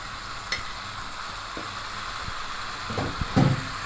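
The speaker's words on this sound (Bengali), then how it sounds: "এবার চিকেনটা দিয়ে মশলার সঙ্গে সুন্দরভাবে কষিয়ে কষিয়ে এটা রান্না করব" About a kilogram of chicken fries in mustard oil with masala on a clay stove, giving a steady close sizzle with a few stirring knocks and scrapes near the end.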